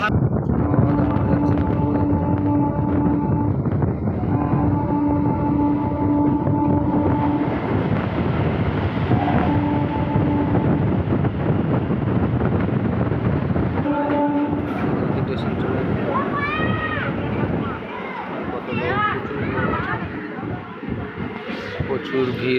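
Steady rumble and rattle of a moving train carriage on a foggy winter day, near Bally station, with horn blasts sounding repeatedly early on and voices talking over the noise toward the end.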